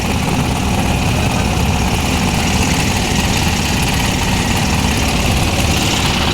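An engine boat's motor runs steadily and loudly throughout, a constant low rumbling drone with no pauses and no voices.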